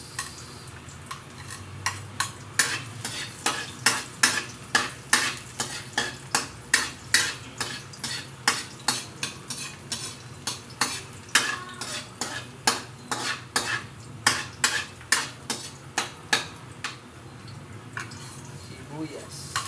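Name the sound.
garlic frying and being stirred in a pan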